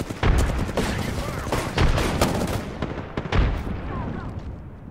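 Gunfire in the shooter game Apex Legends: dense bursts of shots and heavy booming impacts in rapid succession, loud and close, fading somewhat toward the end.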